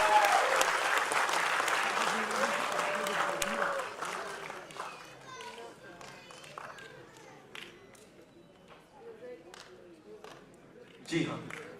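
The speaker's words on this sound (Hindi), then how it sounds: "जोरदार तालियां हो जाती हैं।" Loud audience applause at a fundraising concert for Nepal earthquake victims, strong at first and gradually thinning out, with crowd voices and talk mixed in and a brief swell near the end.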